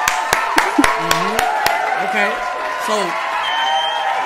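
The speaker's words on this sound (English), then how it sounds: "let's clap it up." A handful of sharp, separate claps ring out near the start while people talk and murmur over a lively crowd background at a live podcast with about 3000 people.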